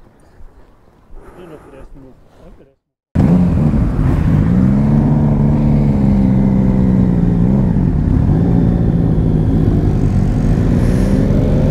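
A Honda CB1000R motorcycle roars past close by at a steady loud level after a short stretch of quieter talk, its engine note dipping and shifting as it goes.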